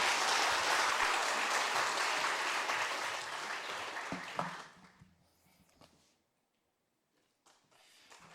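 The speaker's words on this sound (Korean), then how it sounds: "박수로 맞아주십시오." Audience applause at a Korean mission society retirement and inauguration ceremony, a loud, dense roar of clapping that fades over about five seconds into near silence, with a few faint sounds returning at the end.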